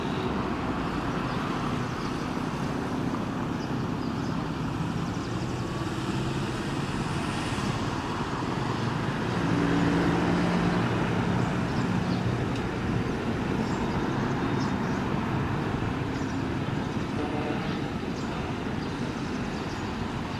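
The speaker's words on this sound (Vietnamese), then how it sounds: "Đây là các xe buýt của cảng hàng không Điện Biên đang di chuyển ra vị trí để đón hành khách" Airport buses at Dien Bien airport in Vietnam move into position beside the apron, a steady broad rumble of engines and rolling vehicles continuing evenly throughout with no talk.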